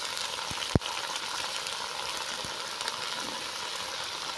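Vegetables fry in a pan in a village kitchen after salt is added, giving a steady, even hiss with one sharp clank near the start and a couple of fainter knocks.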